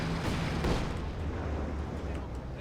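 Artillery shelling in Company of Heroes 2 rolls as a dense, continuous rumble of distant booms. A commentator's voice runs underneath.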